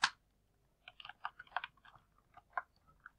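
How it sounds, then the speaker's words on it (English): A computer keyboard being typed on while someone plays the Roblox game Broken Bones 2: a sharp click at the start, then a cluster of quick, irregular key taps, fairly quiet and close, with no talking. "I don't know why I was typing E, Dave."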